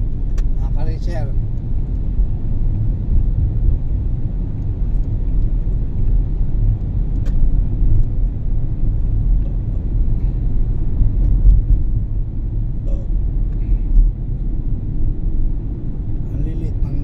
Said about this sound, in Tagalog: Dito tayo sa tunnel ng Ayala